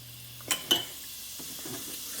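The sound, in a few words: cumin sizzling in preheated oil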